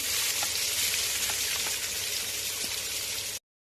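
Onions sizzle in hot ghee in a pan for a home-made dum biryani, a dense steady hiss with scattered small pops, close and even throughout before cutting off abruptly.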